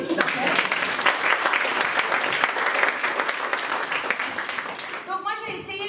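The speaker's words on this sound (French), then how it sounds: "on peut l'applaudir tout à fait." A party crowd in a school hall applauds warmly, steady overlapping clapping at moderate distance, with a voice briefly speaking at the close.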